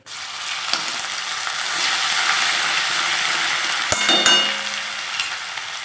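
Steady, close sizzling of ginger garlic paste frying in hot oil, with a few sharp clatters of a utensil partway through.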